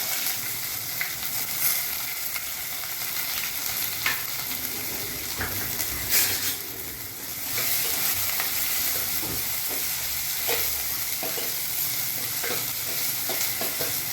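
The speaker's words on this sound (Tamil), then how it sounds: "இப்போ நம்ம குழம்பு தாளிச்சிக்கலாம். கடுகு சேர்த்துக்கலாம், சோம்பு சேர்த்துக்கலாம், வெங்காயம்," Mustard seeds, fennel and onion are tempered in hot oil for kuzhambu, a loud continuous sizzle with occasional stirring scrapes and a brief dip midway before the frying swells again.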